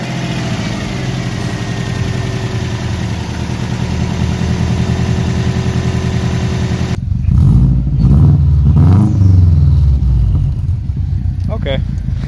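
A car engine drones steadily at idle, then cuts out abruptly; afterward people talk nearby over faint background noise.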